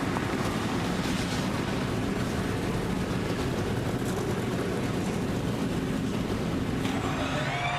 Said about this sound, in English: Drivers, start your Sunoco Green E15 powered engines made with American ethanol.